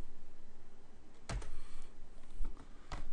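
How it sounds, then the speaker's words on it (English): Computer keys are pressed with a handful of soft, separate clicks, including the Enter key, over a steady low hum in a quiet room. "just press enter."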